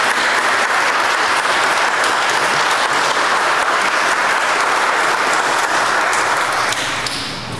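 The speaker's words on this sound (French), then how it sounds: "On peut applaudir toutes ces personnes." A church congregation applauds after an evening Mass, a steady, dense wash of clapping that fills the space for about seven seconds before starting to taper near the end.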